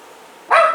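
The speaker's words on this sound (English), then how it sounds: "my dog is after a cat again" A single sharp bark from a dog chasing a cat cuts in suddenly after a quiet moment, loud and close, then trails off quickly.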